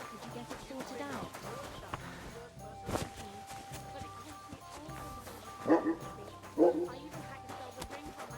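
A dog in the medieval role-playing game Kingdom Come: Deliverance II gives a couple of short barks near the end, under spoken dialogue and faint background game sounds.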